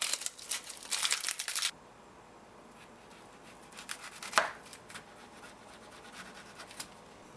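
Dry papery skin of an onion being peeled by hand, a burst of crisp scratchy crackling at first, then sparse faint rustles and one sharper tear, close and quiet with no talking.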